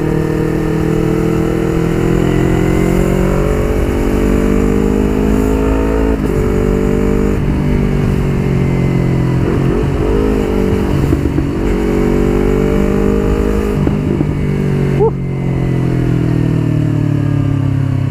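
A Yamaha New R25 (2019) motorcycle ridden through heavy traffic, its engine droning loudly and steadily with repeated rising and falling revs throughout, no talk over it.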